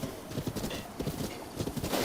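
Rhythmic clip-clop of horse hooves at a steady gait in The Legend of Zelda: Breath of the Wild, fairly close, with a busy game-like background of rustling and ambient noise.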